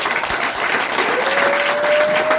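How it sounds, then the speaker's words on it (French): Loud, close applause from an audience honoring a man, thick continuous clapping with a faint rising whistle-like tone running through it. "je vous demanderai vraiment un maximum d'applaudissements pour monsieur Louis Fabrice Latour"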